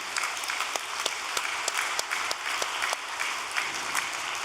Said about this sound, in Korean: 여러분 축하의 박수 드려주시기 바랍니다